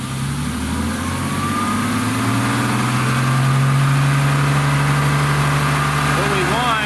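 A BMW E30 engine revs during a coolant bleed, holding a loud, steady drone whose pitch climbs and settles over several seconds, close to the listener with no clear speech.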